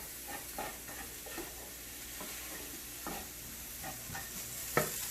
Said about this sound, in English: Stir all of this together.